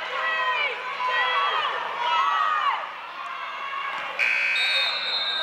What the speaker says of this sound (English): And the buzzer will sound, ending the third period